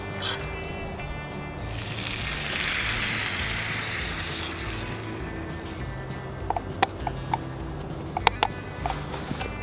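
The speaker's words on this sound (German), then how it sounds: "Jetzt fangen wir an, die Sahne als Soßenbasis dazuzugeben." Cream poured into a hot pan for a truffle pasta sauce at a bushcraft wild camp, giving a steady hissing sizzle throughout with a brief louder swell early on and a few sharp clicks and taps near the end.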